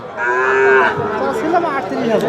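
A local deshi cow at the Ambari cattle market lets out one loud, close, drawn-out moo, with faint crowd murmur in the background.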